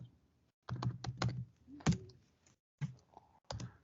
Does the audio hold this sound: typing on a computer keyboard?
yes